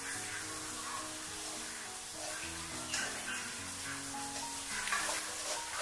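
Eggplant pan-frying until golden in a dry pan, a gentle continuous sizzle with occasional light taps and scrapes, close and quiet, under background music with no speech.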